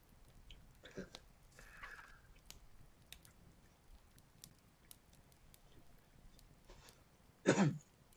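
After near silence with faint rustles, one short, sharp cough with a throat-clearing rasp bursts out close by near the end.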